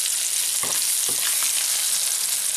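A pangasius fillet fries in butter in a pan, giving a loud, dense, continuous sizzle up close, broken by a few soft taps and scrapes of a utensil.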